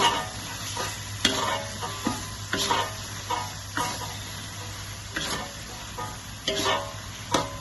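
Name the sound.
sautéing chilies and spices for carp curry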